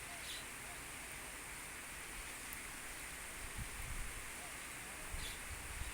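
Rain falls outdoors in a faint, steady hiss, a continuous soft wash with a few low thumps and rustles scattered through it.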